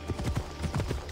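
Rapid clip-clop of horse hooves trotting at a steady rhythm in Assassin's Creed Odyssey, close and clear.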